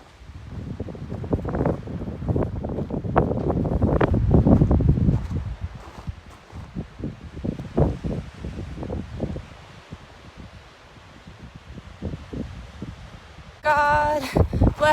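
Gusty wind buffets the microphone outdoors on the Pacific Crest Trail, loud and rumbling at first, then easing into scattered rustling, with a brief burst of voice near the end.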